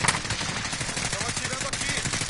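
Dense automatic gunfire from a Call of Duty Warzone match, a busy wash of rapid shots close by that runs the whole time, with a voice talking underneath.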